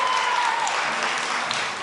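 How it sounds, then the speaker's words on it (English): Crowd of parents cheering and applauding at a raucous Keller ISD school board meeting, dense sustained clapping with a few shouts, steady and fairly loud. "During a raucous meeting, parents brought signs and openly cheered,"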